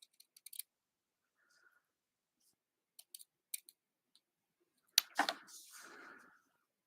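Scissors snip ribbon tails for a handmade card, a few crisp close clicks in small clusters separated by silence, then a brief rustling swish near the end.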